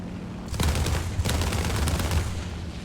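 A Fw 190 A-4 fighter in War Thunder firing its guns with armour-piercing rounds: a dense, continuous rattling burst of rapid cannon and machine-gun fire, loud and close, over the deep drone of the aircraft engine.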